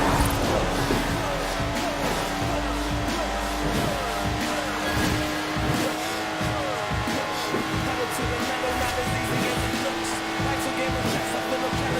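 Lotus Exige sports car in Forza Horizon 4, its engine droning and shifting pitch steadily under a narrator's voice, with rising and falling revs and faint tire noise.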